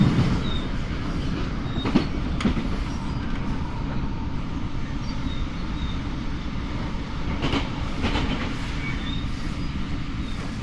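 A Class 458 train crossing a railway bridge near Queenstown Road, heard from inside as a loud continuous rumble with rhythmic wheel clatter and a few metallic clunks, with no talking.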